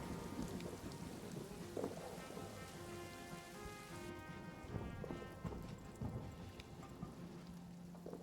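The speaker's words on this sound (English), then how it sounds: "I really, really hope that this rain actually stops soon" Steady rain pours over a World War trench in a video game, rumbling thunder rolling beneath the dense patter of drops, loud and continuous with no voices.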